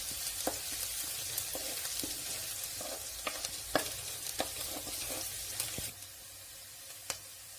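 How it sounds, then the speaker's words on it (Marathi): Onion browning in a pan for sambar gives a steady, close sizzle, with sharp clicks and scrapes from stirring scattered throughout and a brief drop in the crackle near the end. "थोडासा कांदा कांदा थोडासा भाजू द्यायचा आहे"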